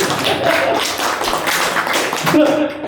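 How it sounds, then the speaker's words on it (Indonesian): An audience at an Islamic boarding-school religious lecture claps together in dense, steady applause for about three seconds, with a voice speaking over it. "Tepuk tangan buat awak dhewe."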